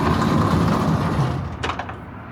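A heavy, industrial-feeling sliding balcony door on an aft balcony cabin of the cruise ship Navigator of the Seas rumbles loudly as it moves, ending in a short clatter as it shuts.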